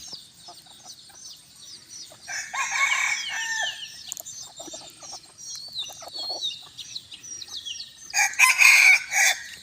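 A young bantam rooster, about a year old, crows in a warm evening yard, with two or three strident cock-a-doodle-doo calls and clucking from other birds between them. No people talk.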